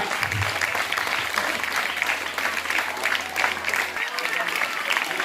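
An audience claps at a school prize ceremony for an August 15 celebration, a dense, steady patter of many hands that runs throughout at moderate loudness, with a voice speaking over it.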